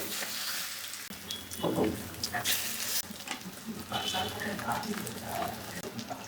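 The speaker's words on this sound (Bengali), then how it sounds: "আমি তেল আগেই দিয়ে রেখেছি, তেল গরম হয়ে গেছে, দিয়ে দেবো।" Stuffed brinjal fritters dropped into hot oil, bursting into a bubbling, crackling sizzle that swells and fluctuates, with a person talking over the frying.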